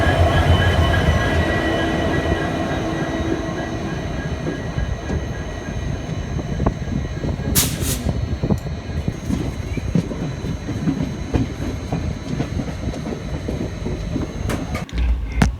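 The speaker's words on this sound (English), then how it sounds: "hauled by a twin WDG3 locomotives" Udyan Express passenger train hauled by twin WDG3 diesel locomotives on a single non-electrified line, a steady close rumble of wheels and cars with a brief high squeal midway and a sharp clank near the end.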